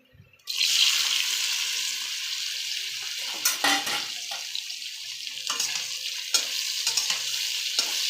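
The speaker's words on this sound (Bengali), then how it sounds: "এটা আমি হালকা ভেজে নেব আমটা।" Mango pieces dropped into a hot wok with nigella seeds and five-spice, bursting into a loud sudden sizzle that settles into steady frying with stirring scrapes.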